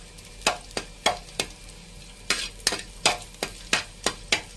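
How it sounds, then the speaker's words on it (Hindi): Garlic frying in about half a spoon of oil in a pan while making fried masala idli, with a series of sharp, evenly spaced stirring scrapes and sizzle bursts close by, no voices. "इसमें लहसुन डाल लेंगे इसको, बस हल्का सा थोड़ा सा फ्राई करेंगे इसको"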